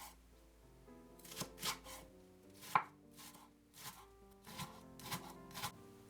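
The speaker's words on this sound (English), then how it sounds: "Mince 150 grams of leeks" Knife mincing 150 grams of leeks on a board for har gow dumpling filling: bursts of quick, close, rhythmic chopping strokes separated by short pauses, with no talking.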